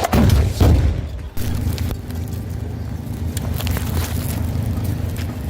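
A rocket fired by fighters through a hole in a wall strikes an IDF Merkava tank, a loud blast up front followed by a sustained low rumble and crackling debris.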